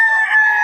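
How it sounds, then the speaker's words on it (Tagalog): A single rooster crowing at a gamefowl farm in Bocaue, one short loud call heard up close. "Napakaraming manok dito mga idol"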